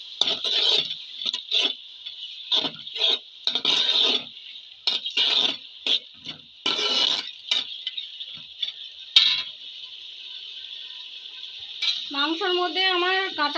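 Goat meat stirred with garlic paste in a pot: intermittent scraping and rustling bursts, irregular and close, with quiet gaps between strokes and a short tonal, voice-like sound near the end.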